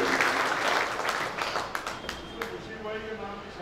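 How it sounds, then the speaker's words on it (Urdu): Applause from the audience at a 2018 Urdu poetry gathering in Bhiwandi fills the room as dense, close clapping that thins out and fades into scattered claps toward the end. "میں چاہتا ہوں کہ ان دونوں حضرات کے لیے ایک بار تالیاں بجائیں"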